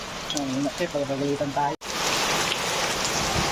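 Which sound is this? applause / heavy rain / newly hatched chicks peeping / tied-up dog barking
heavy rain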